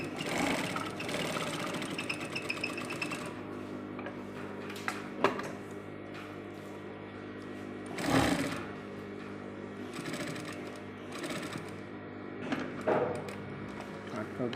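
A sewing machine stitches a zipper onto a kameez, starting with a back stitch, in quiet intermittent runs of mechanical whirring broken by a few sharp clicks and brief louder bursts.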